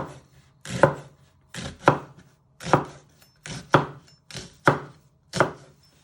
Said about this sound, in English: Always be careful with your fingers, you don't cut yourself with a sharp knife